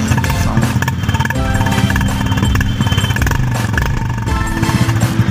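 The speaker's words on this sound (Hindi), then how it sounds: "गाड़ी का साउंड सेम बुलेट सरी का, वो भी ओल्ड मॉडल सरी का, जो पहले डुक डुक डुक डुक चलता था" A 2021 Royal Enfield Classic 350 with an aftermarket silencer idles close by, its loud exhaust giving a steady, rapid thumping beat with slight rises in revs and no talking.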